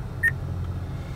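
A short electronic prompt beep from an Acura's voice recognition system sounds once, a clean tone at moderate level over a steady low cabin hum, then fades back to the hum.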